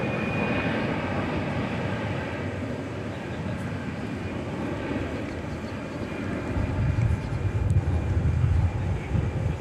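A jet on approach to land at DFW Airport, a broad distant engine rumble and roar that slowly grows louder toward the end.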